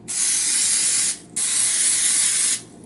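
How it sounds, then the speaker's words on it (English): Two bursts of nonstick cooking spray hissing into a muffin tin, each a steady close, loud aerosol whoosh of about a second with a brief pause between. "we'll go ahead and spray each spot in the muffin tin"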